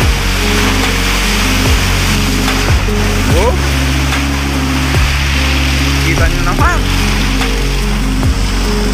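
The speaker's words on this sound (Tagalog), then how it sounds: "Tingnan nyo yung alon dito, nagwawala yung alon." Rough, churning sea waves roar around fishing boats, a loud continuous wash over a low droning boat engine, while someone speaks over the noise.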